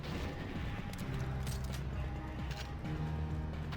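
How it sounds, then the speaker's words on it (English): Explosion effects borrowed from GoldenEye play in the Kurok video game, a dense run of booming blasts and crashing impacts with some mechanical clatter, loud and continuous over a low rumbling game soundscape. "The explosions and the ricochet sound effects and such come from GoldenEye."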